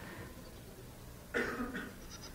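Goats bleat in one burst of about a second, moderately loud and close, against a quiet room hum with no talk.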